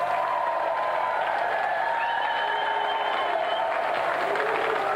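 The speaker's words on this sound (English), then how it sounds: "Round of applause for Jamie." A TV game show studio audience applauds steadily throughout, a dense wash of clapping with a faint tonal hum underneath.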